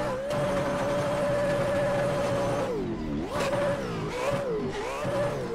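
A Mustang in the Assetto Corsa driving game revs hard as it drifts around a stop sign on canyon roads, its engine holding a steady high pitch and then swooping down and back up through a few quick throttle changes. No speech.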